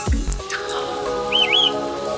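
A caged green leafbird (cucak hijau) calls with bright chirps and a quick warbling, up-and-down whistle, close and clear, alone after a brief low thump at the start.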